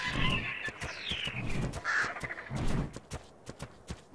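A game eagle in ARK Survival Evolved lets out repeated harsh, crow-like cawing cries over a dense, busy background of in-game sounds and thumps.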